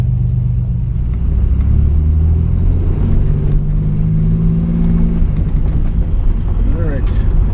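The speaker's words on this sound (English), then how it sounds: "So let's fire it up here and see how it runs." A modified Chevrolet Cavalier Z24 engine runs with a loud, steady, low rumble close by, while someone talks over it.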